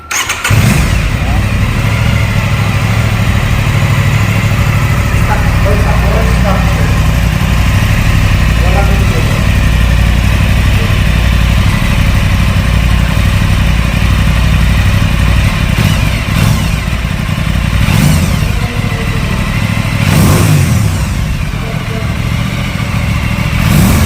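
A loud Aprilia motorcycle engine runs steadily up close, its low rumble rising into a few brief revs, with faint voices beneath the noise.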